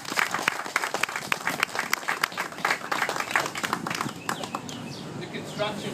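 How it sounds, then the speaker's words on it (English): Applause from an audience thanking the employees who helped build the Slice of Life business, given at a shop opening; dense clapping runs strong for about four seconds and then thins and fades. "Give them a round of applause."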